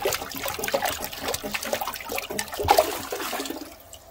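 A clogged toilet is plunged while water churns, gurgles and trickles as it drains. The sloshing is close, comes in uneven surges and fades out at the end.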